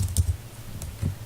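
Several quick, light keystrokes on a computer keyboard, clustered at the start and again near the end, close and fairly quiet with no talk.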